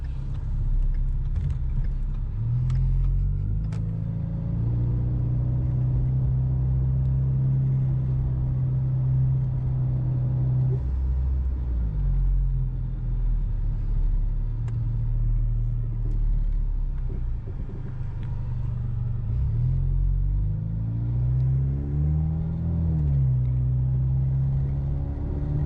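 Ford EcoBoost pickup truck with a full exhaust driving, a loud steady low engine drone throughout with rising and falling pitch as it accelerates and shifts, close and continuous with no talk.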